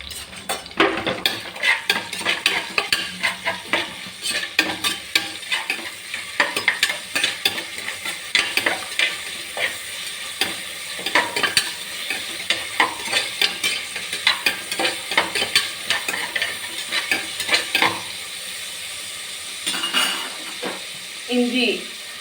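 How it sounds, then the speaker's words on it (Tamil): Large onions sauté with salt in a pan, sizzling steadily while a utensil scrapes and clinks against the metal in repeated stirring strokes, close up, as a person talks throughout. "நமக்கு வந்து கொஞ்சம் சால்ட்டு ஆட் பண்ணி நல்லா வதக்கி விடலாம்."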